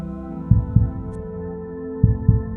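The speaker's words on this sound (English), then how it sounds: "Feel the gentle rhythm of your heartbeat." A steady heartbeat sound effect in meditation audio, loud and close, with two paired double thumps about one and a half seconds apart over a soft sustained hum.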